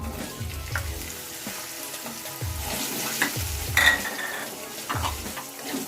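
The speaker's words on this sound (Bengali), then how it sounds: "লঙ্কাগুলো পাঁচ ফোড়নগুলো একটু ভাজা হয়ে গেছে এবার আলুগুলো দিয়ে দিচ্ছি" Cubed potatoes tossed into hot oil with panch phoron and chillies for a cauliflower singara filling, sizzling steadily while a spatula stirs with repeated clanks and scrapes against the pan.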